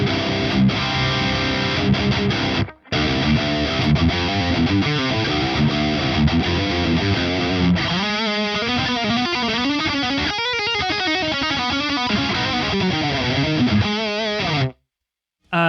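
A heavily distorted metal guitar tone from the Revalver 4 amp simulator, built on a budget, chugs continuously and densely, with one brief break near the start and a cutoff just before the end.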